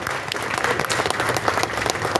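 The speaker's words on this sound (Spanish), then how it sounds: "les pido un aplauso a las mamás y a los papás por todo su aporte, un aplauso muy fuerte a ustedes" Loud, close applause from a crowd at a memorial anniversary gathering, honoring the mothers and fathers; quick, dense clapping sustained for the whole brief stretch.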